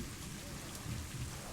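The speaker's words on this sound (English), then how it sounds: "It is still raining here, by the way." Steady rain pours in the zoo-building video game Planet Zoo, a dense, even hiss with low rumbling underneath, continuous throughout.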